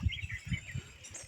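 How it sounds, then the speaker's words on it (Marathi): Faint, quick evening bird chirps repeat in a loose pattern against a quiet rural background with low rumbling. "पक्ष्यांचा किलबिलाट"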